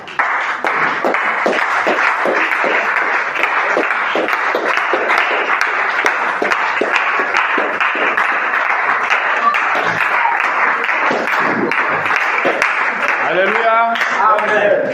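A church congregation applauds continuously and loudly, a dense wash of clapping with voices mixed in throughout.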